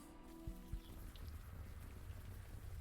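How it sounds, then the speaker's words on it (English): Rain falling in the video game Unavowed, a soft steady patter of drops with faint low rumble, quiet and continuous, a short tonal blip near the start. "is this rain ever gonna stop?"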